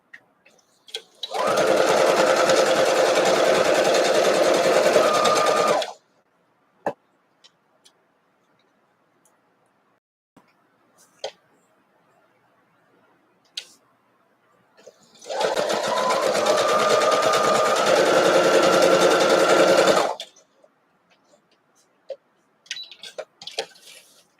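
A sewing machine, noted as in need of cleaning, runs at steady speed through two long stretches of stitching on a quilt block. Between the runs come quiet gaps with faint clicks and handling sounds.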